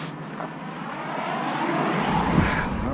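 An engine runs steadily beside a New Holland baler whose hydraulics are frozen, a loud, close, droning hum with a faint whine on top that grows slightly stronger toward the end, with no talk.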